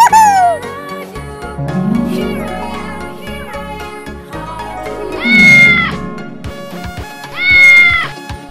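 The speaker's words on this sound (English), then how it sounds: "Cat." A cat meows twice in a children's animal-sounds toy setting, each drawn-out meow rising clearly above bouncy background music with steady beats.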